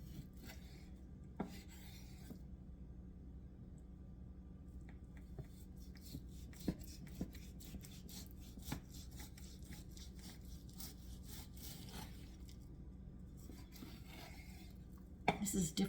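A knife saws and rubs through chuck roast on a board, cutting it into one-inch pieces for a Greek stifado. Soft, near scraping and slicing strokes repeat irregularly over a low background hum.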